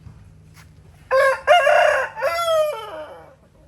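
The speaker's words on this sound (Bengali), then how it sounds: "থাইল্যান্ডের মোরগ" A rooster crows once, loud and close, in a long rising-and-falling call near a beach in Thailand, with only quiet outdoor background and no talking.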